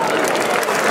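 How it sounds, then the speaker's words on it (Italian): A festival crowd in Fonni, Sardinia, breaks into a brief burst of dense, loud applause, with crowd noise and voices mixed in. "Subito un bel applauso"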